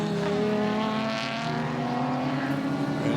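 Two red Alfa Romeo Alfetta race cars roar loudly around the Winton circuit, engines droning at high revs with a rising and falling tone as they pass close by.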